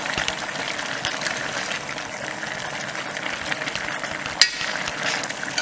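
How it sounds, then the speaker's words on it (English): Red potatoes being stirred into a pot of beef stew, a steady wet churning and sloshing with a soft clunk near the end, close and continuous with no voices. "we're going to go ahead and pour our red potatoes, and we're going to mix good"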